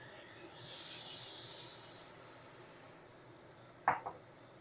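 Water poured from a bowl of ridge gourd and gram flour batter hits hot fried spice paste in a pan. A loud hiss rises and lasts about two seconds, then fades, followed by a brief clink of the bowl.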